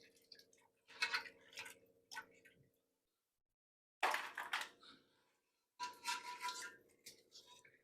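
Crabs are washed in water in a home kitchen, with several bursts of splashing, sloshing and scrubbing separated by brief silences, close and fairly clear.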